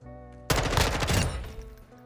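An M4 rifle in the video game Modern Warfare 2 fires a quick, loud burst of automatic shots that cuts in abruptly and then fades into echoing tail.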